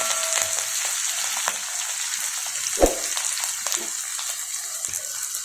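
Mint and whole curry leaves on the stem frying in hot oil for a country-chicken curry, a continuous close sizzle with a single sharp pop partway through, no talk.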